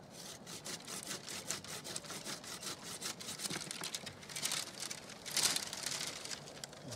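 A hand saw rasps steadily through a wild apple tree branch in quick back-and-forth strokes, close and fairly quiet, with a slightly harsher stroke near the end.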